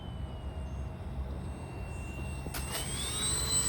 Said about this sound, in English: Now I'm going to do a touch and go, no flaps.